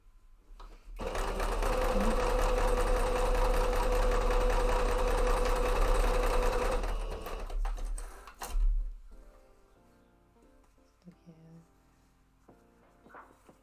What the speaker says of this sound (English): but first I'm gonna sew this.